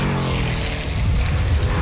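A supercharged classic sports race car roars at Castle Combe circuit during a club race, its engine note loud, dense and continuous with a rough, savage edge, heard alone without voices.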